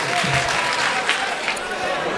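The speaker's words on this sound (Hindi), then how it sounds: "आप इस तालियों के दरमियान इनका इस्तकबाल करें।" Audience applause welcomes a young poet to the microphone at a mushaira poetry gathering in Dhule, 2018. Steady, dense clapping fills the whole stretch at even loudness, with faint voices mixed in beneath it.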